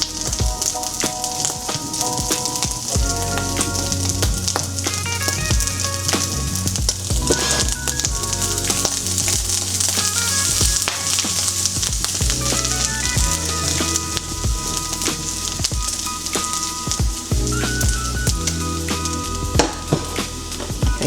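Bacon fries in a pan with Cajun seasoning and smoked paprika, giving a steady, dense crackling sizzle with scattered pops and occasional stirring scrapes, close and continuous with no talking.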